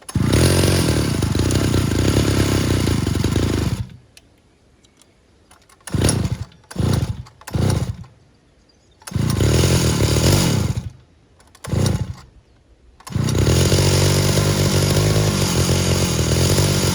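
A Stihl 051av chainsaw engine runs at full throttle in loud, close, buzzing stretches, dropping to idle between them and blipped in several short revs before roaring back up.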